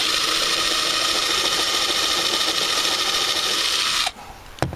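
A power drill bores steadily through plywood for about four seconds, a loud continuous whine that cuts off abruptly, followed by a brief knock.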